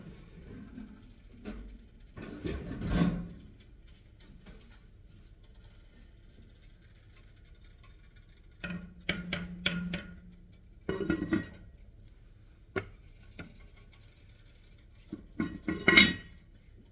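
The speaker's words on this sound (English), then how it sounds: "All right, so we're going to put our lid on here." A metal lid set onto a cooking pot of egg roll soup with cabbage, heard as a few scattered clinks and rattles separated by quiet stretches, with one sharper clank near the end.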